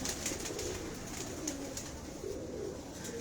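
Pigeons kept by a fancier at Bakkar Mandi coo in a low, soft, repeated murmur, fairly near, with faint higher chirps over steady background hiss and no speech.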